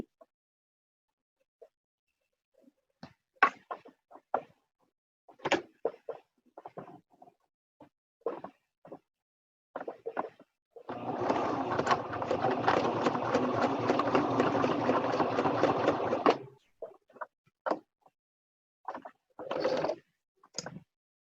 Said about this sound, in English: I'm going to start stitching. I'm going to go across, and then I'm just going to reverse back